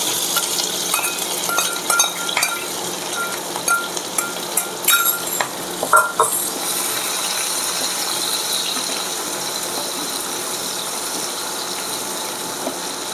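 Chili, ginger and tomato frying in a pan for chana dal, a loud steady sizzle with scraping stirring strokes clustered early on, no talking.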